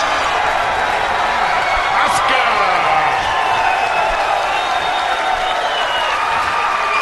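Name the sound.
crowd applauding and cheering at pool match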